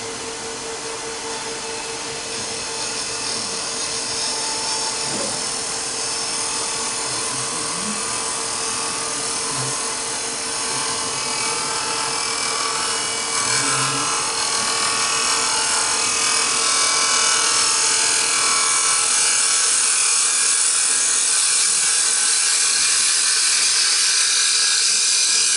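A wood lathe takes a final finishing cut on a Japanese style cup repaired with epoxy, giving a steady, loud high-pitched whine with a constant hum that runs unbroken from start to finish, with no voices.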